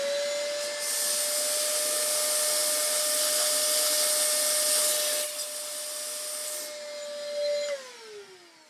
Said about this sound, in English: Just hoover that out again.